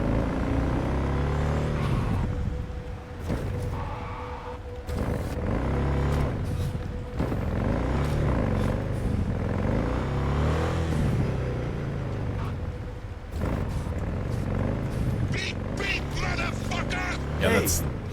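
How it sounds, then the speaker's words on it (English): Car in Cyberpunk 2077 driving by, engine rising and falling in passing sweeps amid game sounds, with someone talking over it throughout. "That sounds like the car that hit me."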